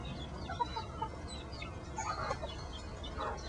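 Chickens cluck softly and steadily while feeding on breakfast scraps that include a little oatmeal, forming a low, busy backyard murmur with a few brief, sharper calls.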